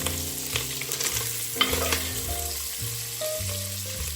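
Already-cooked smoked sausage searing in a hot pan for chicken and sausage jambalaya: a constant close sizzle with scraping stirs and clinks of a utensil against the pan throughout.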